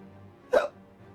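A single sharp hiccup, close and fairly loud, bursts out over a quiet background murmur and fades quickly.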